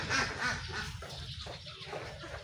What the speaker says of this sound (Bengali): এটা হলো তিত মুরগি